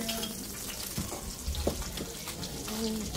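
A jalapeno dish is mixed with a spoon, giving a low, steady scraping and stirring sound with a faint sizzle. Soft clinks stand out near the middle. No one speaks.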